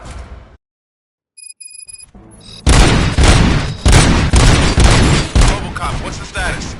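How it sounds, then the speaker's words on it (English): Gunfire in a Robocop film scene, a sharp dropout into near silence, then a dense run of loud booming shots and bursts that go on to the end. "Gunshots?"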